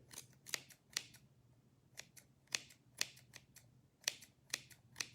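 Scissors snip repeatedly at a gnome ornament's beard, with about a dozen crisp, close cuts in an uneven rhythm over a quiet background and no talking.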